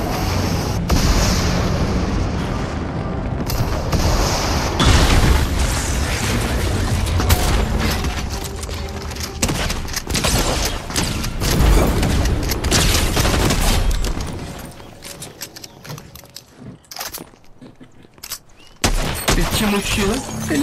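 A grenade explodes amid rapid Fortnite gunfire in a dense, loud run of blasts and shots that eases briefly before rising again, with no talk over it.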